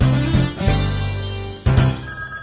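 A telephone rings inside a house, a loud electronic ring in three repeated bursts separated by brief gaps, with no one talking.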